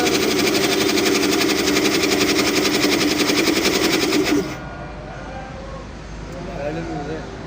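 A repaired 20 HP air fusion machine with a 120 mm unit runs on test, making a loud, fast mechanical rattle that cuts off abruptly after about four and a half seconds, leaving quieter background sounds.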